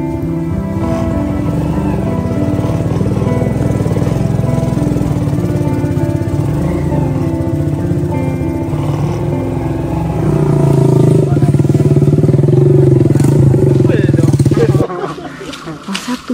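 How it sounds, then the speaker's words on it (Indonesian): A motorcycle taxi labouring up a slippery, root-covered mountain trail, its mid-pitched engine droning steadily and loudly up close, revving harder toward the end before cutting back, with a voice talking over it. "jalurnya sangat licin dan berakar, sehingga motor agak susah untuk bisa dipacu secara maksimal"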